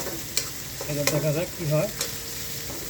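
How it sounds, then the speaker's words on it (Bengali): Onions fry in oil for noodles with a continuous bright sizzle and a few sharp crackles, heard close and under a brief spoken remark. "তেলের সাথে পরিমাণ মতো আমরা এটা ভেজে নেব।"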